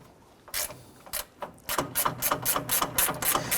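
A ratchet wrench loosens the center beam bolts on a 2012-2017 Toyota Camry at the radiator support. A few scattered clicks come first, then a fast, steady run of close, crisp pawl clicks with no talking.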